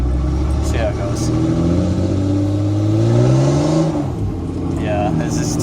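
A Cummins diesel truck with big injectors and high fuel pressure, running a 12-valve-style switchable tune, revs up at full power on a slippery surface, its loud engine rising and sustained with a voice speaking over it.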